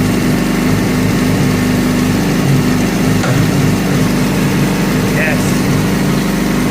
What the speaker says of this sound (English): Let's do the old engine test to see if it is the right cables.